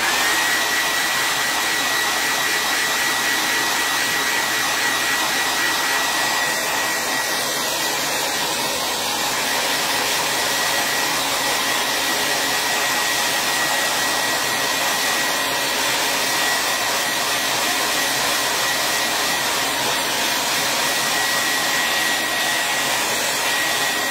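Hair dryer blowing steadily on a piece of patriotic craft decor, a continuous loud whooshing roar with a faint whine, running unbroken throughout with no talking.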